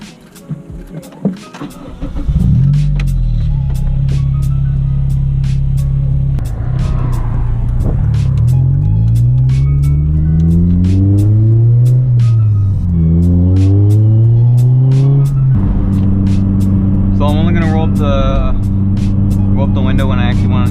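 A tuned K24 engine in an 8th-generation Honda Civic Si pulls hard through the gears from inside the cabin, a droning roar rising and falling with each shift over a few seconds, with a voice talking over it.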